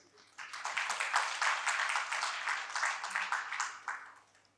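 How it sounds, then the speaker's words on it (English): An audience at an open mic evening bursts into applause, a sustained wash of many hands clapping that holds steady and then tapers off. "I think this deserves a big round of applause"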